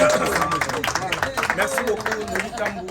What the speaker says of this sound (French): Applaudissements encore nourris